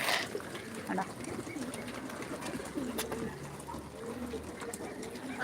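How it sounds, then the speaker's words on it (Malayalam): Soft pigeon coos repeat amid light background noise and faint rustling, with a quiet voice talking at times. "അതിൻ്റെ അടുക്ക് എൻ്റെ പ്രാവ് ഫുഡ് കഴിക്കുന്നുണ്ട്"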